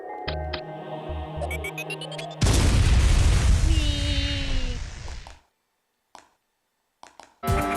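A bomb in the video game AM2R goes off with a loud, booming, noise-filled blast that rumbles for a couple of seconds before cutting out, amid beeping electronic game sounds.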